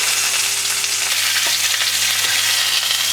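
A rack of lamb sears in a hot pan, giving a loud, even sizzle that holds steady throughout, close up with no talk.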